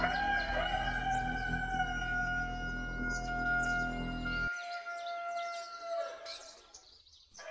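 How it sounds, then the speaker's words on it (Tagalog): A rooster crows in a rural village in daylight, the call drawn out and fairly clear over a steady background hum that drops away partway through. "may ingay ng manok"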